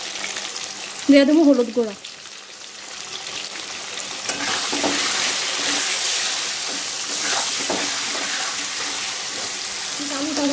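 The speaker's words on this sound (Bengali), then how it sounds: "এখন আলুটা প্রথমে বাইচা নিব" Potatoes sizzle steadily in hot oil in a pan, a continuous frying hiss with occasional stirring, while someone briefly talks near the start.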